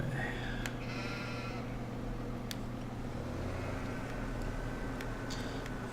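Sheep in the Farming Simulator 17 video game bleat several times in short bursts over a steady low engine-like drone and background hum, fairly close and clear, no talking.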